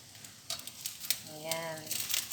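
Fried rice sizzles and crackles in a pan with scattered stirring clicks, while a voice hums or speaks briefly over it midway.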